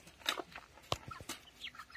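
Newly delivered backyard chickens clucking softly at close range, a few short, scattered calls and rustles over about two seconds.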